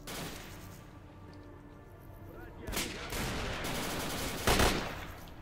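Gunfire rattles in the S.T.A.L.K.E.R. video game, with loud bursts of shots and heavy booms, two especially sharp blasts standing out over a dense, noisy battle background.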